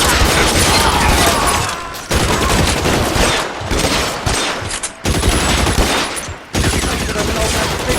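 Gunfire at gasoline barrels in the L.A. Noire video game, heard as loud, nearly continuous volleys of rapid shots with only brief pauses throughout.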